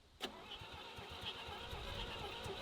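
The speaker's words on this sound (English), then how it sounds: "how long will this battery crank this engine before it runs the battery down?" A tractor engine cranks on a lithium iron phosphate battery, with a sharp click at the start and then a steady, rhythmic chugging of the starter that never catches, heard fairly faint and close.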